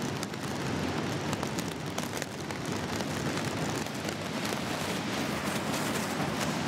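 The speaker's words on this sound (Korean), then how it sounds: "1m 앞을 볼 수가 없을 정도로 비가 쏟아졌다." Heavy rain pours down near Victoria Falls, a dense, steady hiss of spray and falling water that stays loud and unbroken throughout, with no voices.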